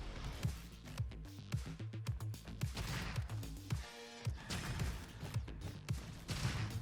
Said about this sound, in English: Okay, how fast does this fire? Not very fast, but honestly, this gun is much more my speed compared to the pistol.